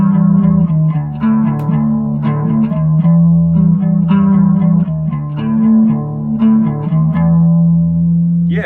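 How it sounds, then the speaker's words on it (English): A bass guitar runs through a chorus pedal with the depth and rate turned up, playing a loud, shimmering bass line of repeated, wavering notes with no talking. "that's a nice little chorus sound for this bass"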